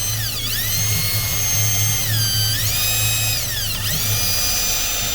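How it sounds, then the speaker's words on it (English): A power drill spins a length of wire fed down a Renault Trafic injection pipe to clean it, a loud continuous high whine that drops and rises in pitch several times as the speed changes. "get your drill, and work it"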